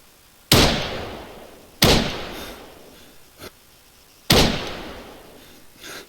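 Shots of 5.56 rounds ring out in the Arma military game, three loud sharp reports spaced over several seconds, each with a decaying echo tail, plus a smaller thud in between.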